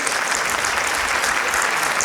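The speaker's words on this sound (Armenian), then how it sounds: "ծափահարեք խնդրեմ" A stand-up comedy crowd claps steadily, a dense and even wash of applause filling the room from start to end with no pauses.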